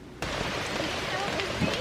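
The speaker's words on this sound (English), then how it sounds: "It's raining out there this morning" Morning rain falls outside, a steady wide hiss of drops that starts abruptly and continues with a few louder patters, fairly close and with no voices.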